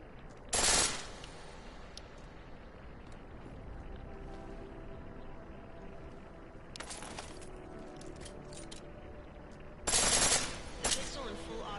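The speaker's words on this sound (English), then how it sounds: "The pistol in full auto will take down targets fast, but it'll burn through your ammo." A pistol switched to full auto in Deus Ex: Mankind Divided fires in three loud, short bursts, the first near the start and two more later, with quieter game ambience and a faint hum between them.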